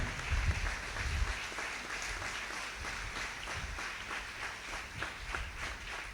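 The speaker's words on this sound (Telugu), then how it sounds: "అందరము కూడా గట్టిగా చప్పట్లు కొడుతూ ఆమెకు హ్యాపీ బర్త్డే అని తెలియచేద్దాం" A church congregation at a Nativity of Mother Mary service claps together, a moderately distant, continuous patter of many hands that stays fairly even throughout, with a few heavier thumps early on.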